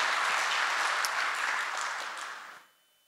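Applause from a conference audience at a crypto event, a dense steady wash of clapping that fades out near the end, leaving near silence.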